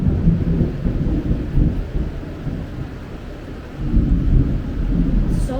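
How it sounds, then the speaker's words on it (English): Loud, deep thunder rolls during a Florida storm, a sustained booming rumble that eases briefly and then swells again, with rain faintly underneath. "The thunder's loud for you, huh, kiddo?"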